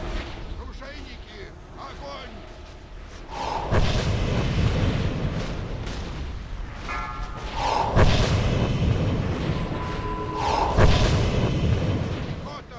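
Several deep booms of cannon fire in a video game, arriving in bursts a few seconds apart, over a steady rumbling game soundscape with raised voices.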